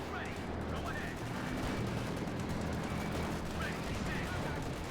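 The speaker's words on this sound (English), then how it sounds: "Shot fired. Sniper there with 5 kills." Rifle fire from a sniper in a Company of Heroes 2 match between German and US forces, with sharp shots cracking over continuous battlefield gunfire and rumbling background combat noise.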